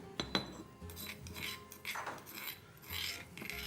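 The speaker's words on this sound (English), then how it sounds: "with the spoon, you're going to kind of scrape the sides" A spoon scrapes around the sides of a bowl holding a salt, garlic and vinegar mix, making short gritty strokes and light clinks, quiet and close with no talking.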